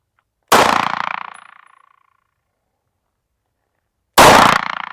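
Two sharp pistol gunshots at an outdoor shooting range, a few seconds apart, each loud and close with a ringing tail that fades over about a second, no talking between them.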